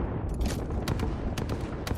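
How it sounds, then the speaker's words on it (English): Rapid bursts of Apex Legends gunfire crackle over a dense, noisy game background, several sharp shots clustered within a couple of seconds. "I noticed that gunfire coming from the back"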